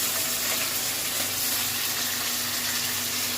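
Curry leaves and green chillies fry in hot ghee with a loud, steady, close sizzle that stays constant throughout, with no one talking.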